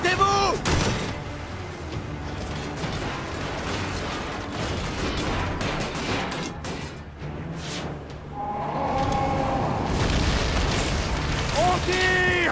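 Gunfire and explosions in Assassin's Creed Origins, with rumbling booms and bursts of shots over continuous battle noise, while voices shout throughout.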